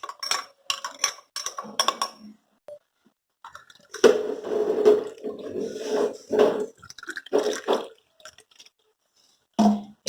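Water is poured into a glass for a Nannari sarbath drink, heard as a close, steady splashing stream with scattered glass clinks and clatter before and after, with no talking.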